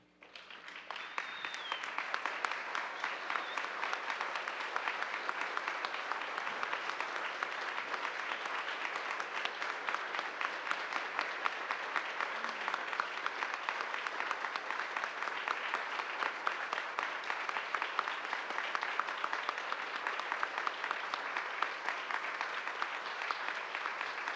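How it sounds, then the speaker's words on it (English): A standing ovation: a large audience applauds in a thick, even roar of clapping that rises quickly and holds steady and loud for over twenty seconds. "Can we offer her one more standing ovation?"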